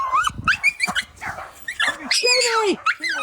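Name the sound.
dogs barking while chasing a fox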